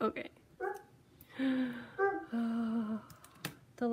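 A pet dog whimpering at a house door, several high, drawn-out whines and short yelps heard close, interleaved with a person talking.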